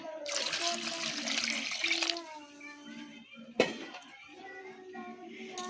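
Water is poured and splashes in a kitchen for washing vegetables, a steady running rush for about two seconds, then quieter trickling with a sharp knock and background murmur.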